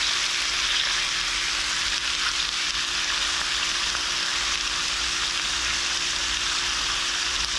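Chicken for pollo a la mexicana sears in a hot pan, giving a loud, dense, unbroken sizzle that holds steady throughout with no other sounds on top.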